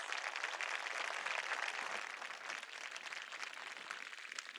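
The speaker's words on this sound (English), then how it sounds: "please give them a round of applause" Sustained applause from an audience at a high school graduation ceremony, a dense steady patter of clapping heard at a distance, fairly faint throughout.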